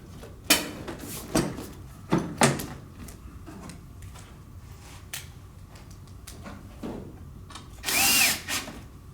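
A power drill drives screws into the underside of a GRAMMER seat cushion in short bursts of whirring, several quick runs with clicks and handling knocks between, close and fairly loud.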